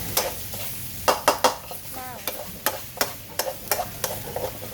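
Pork sizzles in hot oil in a wok for Thai basil fried rice, with a steady frying hiss under repeated sharp scrapes and knocks of a spatula stirring the pan.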